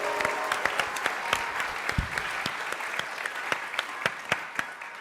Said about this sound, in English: a big round of applause for the Theater of Public Policy